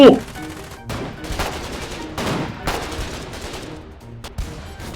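Gunfire crackles in the war video game Foxhole, with several bursts of rapid shots and single cracks spaced across a few seconds, sounding close and loud against a busy battle background.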